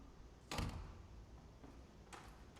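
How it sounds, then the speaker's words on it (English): Doors opening and closing in a quiet space, sounding thin and tinny rather than rich: one loud thud-like closing near the start, then a softer second door sound later, with no voices. "The doors don't even sound like they used to."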